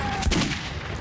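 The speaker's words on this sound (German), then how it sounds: "der Revolver hat Bums, ey" A single loud revolver shot in the video game Metro gives a sharp boom close up, then a short rumbling decay.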